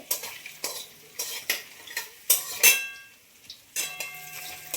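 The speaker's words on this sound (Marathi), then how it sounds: "आता आपलं पनीर पण छान तळून होत आहे" Paneer frying in a pan for masala matar paneer, heard as a steady close sizzle under repeated sharp scrapes and clinks of a spatula stirring against the pan, with no talk.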